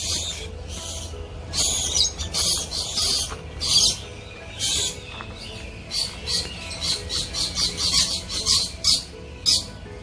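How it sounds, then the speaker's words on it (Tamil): Birds at a nature park in Port Moresby, Papua New Guinea, give loud, harsh squawks in repeated bursts, some close together in rapid runs, over a low background hum. "இந்த பறவைகளோட சத்தம் எல்லாம் கேட்கும்போது ரொம்ப இனிமையா இருந்துச்சு."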